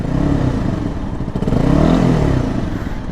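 A 2011 Honda CBR 250 motorcycle engine runs close by, a loud, steady buzzing drone that swells slightly in the middle with some mechanical clatter, and no one speaks.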